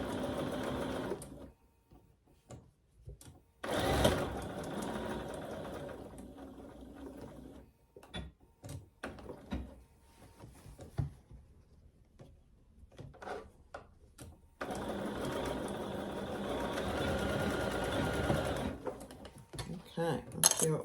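A sewing machine stitches back over earlier stitches on a ruffled pillow, running in several bursts separated by pauses, with short mechanical clicks and handling noises in between.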